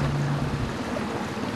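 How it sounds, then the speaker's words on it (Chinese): A small work boat loaded with steel plates moves across a shallow lagoon, its low engine drone steady and continuous with broadband water and wind noise around it, no voices. "这次我们搭乘的是载运钢板的工作船"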